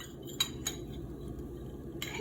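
Knife cutting through a set jelly in a dish, heard as a few faint clinks and scrapes of metal against the dish over a quiet kitchen background.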